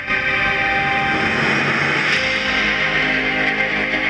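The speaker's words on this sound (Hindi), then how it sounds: "यह रेल का सफर है, आ गया है एक स्टेशन।" An Indian Railways train makes a loud, continuous rumbling and roaring rush that lasts the whole time, with a brief brighter hiss near the middle.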